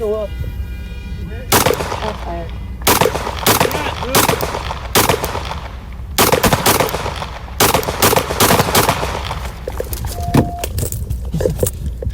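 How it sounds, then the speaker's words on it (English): Police officers trade rifle and handgun fire with a suspect in a 2020 shootout, producing loud, close bursts of rapid gunshots that crack repeatedly through the whole stretch over shouting and radio noise. "Shots fired, he's still up."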